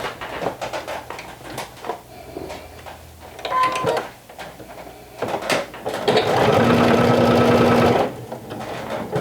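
A sewing machine stitches woven fabric with purple thread, with short bursts of whirring stitching and handling noises, then a longer steady run near the end, close and fairly loud.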